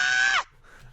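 A short shouted vocal sample of Marshall Law from the Tekken fighting game, a bright held cry that bends downward and cuts off abruptly, followed by a faint tail.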